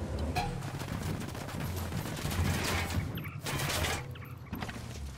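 Gunfire in the Ghost Recon Wildlands video game, rapid bursts of automatic fire crackling in a dense, continuous stream with a brief lull partway through, fairly distant and moderate in level.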